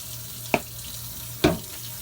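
Water runs steadily from a tap into a folding washing machine, a faint continuous hiss with two brief louder splashes or knocks about a second apart.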